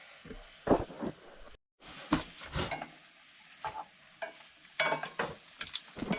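Italian sausage frying in a pan inside a heated canvas hot tent while winter camping: close sizzling punctuated by sharp scrapes and clatters of stirring in uneven bursts, with a brief silent gap near the start and no talking.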